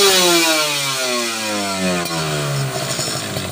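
Two-stroke motorcycle engine, already warm and burning Repsol MXR 2T oil, runs steadily and loud with a slowly falling pitch as it settles, no talk over it.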